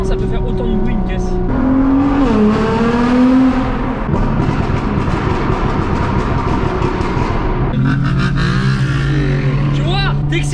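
A Nissan GT-R engine revs loudly and steadily up close, a sustained roar with rising and falling pitch, while people talk over it.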